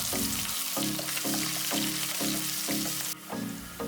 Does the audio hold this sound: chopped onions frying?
yes